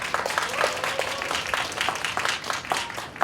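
An audience applauds a soprano being introduced at a concert, with a full, steady patter of many hands clapping that runs throughout without pause.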